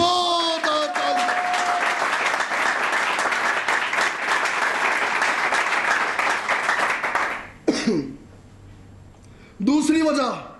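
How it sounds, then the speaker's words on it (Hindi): A church congregation breaks into loud, sustained applause for about seven seconds during an Urdu-language sermon, then it fades and a preacher's voice speaks briefly over a low hum. "आइए खुदावत के लिए जोरदार ताली।"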